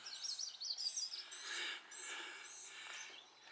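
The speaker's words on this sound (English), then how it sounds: "birds chirping." Small birds chirp and twitter in a quiet small-town downtown on a spring Sunday, with soft, fairly distant calls in an unbroken stretch and no talking.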